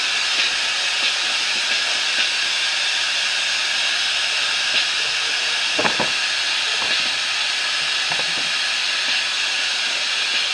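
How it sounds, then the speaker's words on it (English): Steady, loud hiss of steam venting from a pressure cooker used to make soup beans, continuous and close, with a few faint clicks underneath. "I'm going to turn this thing off, slide it over to the side, and I'm going to release the steam off of it."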